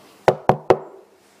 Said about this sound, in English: Then, of course, this knock at the door comes.